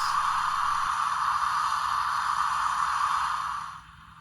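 A long, steady hiss of steam release from a Bachmann Transcontinental Railroad 150th Anniversary set model locomotive's sound effects, sustained for nearly four seconds before trailing off into quiet.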